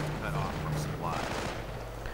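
Gunfire crackles in a WWII strategy game battle as grenadiers come under fire, a dense run of overlapping shots and bursts under a low steady tone, with a commentator talking over it.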